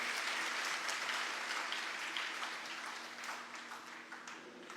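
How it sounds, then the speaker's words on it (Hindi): An audience at a Walmiki Samaj gathering applauds in a broad, sustained wash of clapping that slowly thins toward the end, with no speech heard over it. "इनका हम बड़े जोर शोर के साथ, तालियों के साथ हम अभिनंदन करें"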